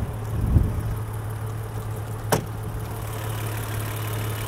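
A supercharged and turbocharged inline-six in a 2022 Range Rover LWB idles with a steady low hum, broken by a soft knock near the start and a sharp click midway.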